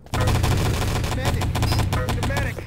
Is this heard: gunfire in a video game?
yes